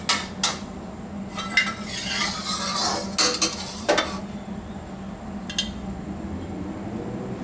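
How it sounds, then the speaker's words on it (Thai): Plain salted sea bass pieces fry in hot oil in a pan, making a soft continuous sizzle broken by sharp metallic clinks and scrapes of a utensil, with no talking. "เดี๋ยวเราให้น้ำมันร้อนแล้วก็นำลงไปทอดนะฮะ"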